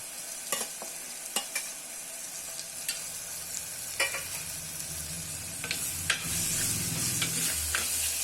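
Chopped tomatoes stirred into a hot pan while cooking Tamil mochai kulambu with field beans and drumstick, giving a steady close sizzle broken by scattered scraping stir clicks, with a louder frying burst near the end.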